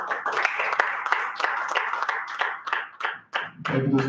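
Applause for Toastmaster Rashmi at a Dubai Toastmasters Club meeting: a small group claps in quick, uneven bursts, fairly close, tapering briefly before a short final flurry.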